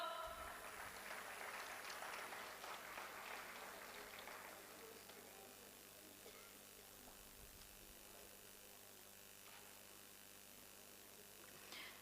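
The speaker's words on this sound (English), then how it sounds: "The claps should not stop." An audience applauds at a graduation convocation ceremony, with steady clapping loudest in the first few seconds and then thinning to a faint patter under a low room hum.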